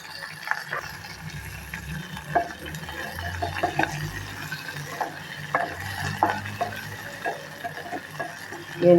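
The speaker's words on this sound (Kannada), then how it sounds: "ಎಣ್ಣೆಯಾಗೆಲ್ಲ ಕರಿಯಾಕ್ತೀನಿ." Onion pieces fry in hot oil alongside cumin seeds and curry leaves for a tomato dish, giving a soft continuous sizzle with scattered stirring clinks and scrapes close by, and no talking.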